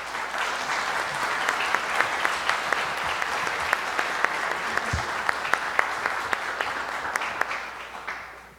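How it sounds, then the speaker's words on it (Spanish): Warm, sustained applause rolls through the hall at an accreditation ceremony for a mathematics degree program, with individual claps standing out from the continuous clatter before it fades at the end. "Acompañemos este momento con un caluroso aplauso."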